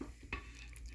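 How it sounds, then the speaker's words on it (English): A chocolate mixture is stirred as it cooks in a pan, giving a faint scraping with a few soft sizzling bits and one sharper clink. "we gonna keep cooking it and keep stirring it until we get that"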